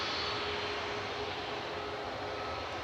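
A Boeing 787-9 Dreamliner jet at Manchester Airport produces a steady, distant hissing engine roar that stays even throughout the short stretch.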